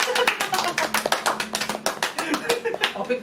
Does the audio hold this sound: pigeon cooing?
no